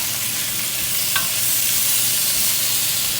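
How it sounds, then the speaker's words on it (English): Mandolin-sliced zucchini and summer squash sauté in about two tablespoons of olive oil, a steady, even sizzle and hiss that holds for the whole stretch without a break. "And now we're working on sauteing the zucchini and the squash that we sliced with the mandolin."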